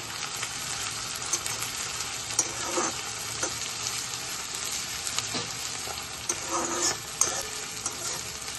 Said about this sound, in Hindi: तो 2 मिनट हल्का फ्राई करना है।